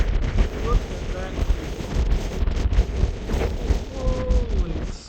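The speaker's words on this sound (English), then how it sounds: "It's super windy up here" Strong wind buffets the microphone at a high canyon overlook in Canyonlands National Park, a loud, constant low rumble with gusting surges, and a voice speaks faintly beneath it.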